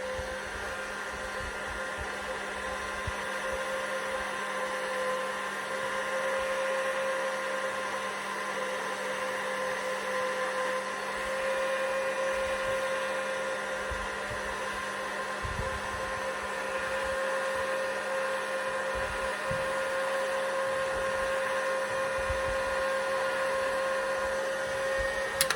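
A hot air blower heating heat shrink tubing on a Passi-Probe tip, set to 420 degrees, gives a steady, loud, continuous whooshing drone with a fixed hum that holds unchanged throughout, with no talking.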